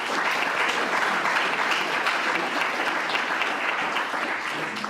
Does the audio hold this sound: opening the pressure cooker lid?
no